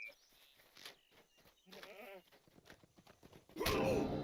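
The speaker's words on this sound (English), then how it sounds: "There was just a goat up here." A goat in the game LOTRO gives a short wavering bleat in the middle, followed by a louder bleat, with faint game noises around it.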